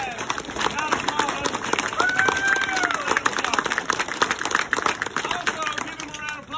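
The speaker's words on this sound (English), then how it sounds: "give him a round of applause" A crowd at a field trial hunt gathering claps for the organizer, dense, steady applause throughout with voices talking over it.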